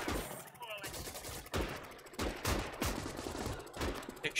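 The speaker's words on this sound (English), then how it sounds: "They're shooting at your transport." Gunfire rattles in the World War II game Gates of Hell, a series of sharp shots and bursts at irregular intervals, moderately distant, with faint voices underneath.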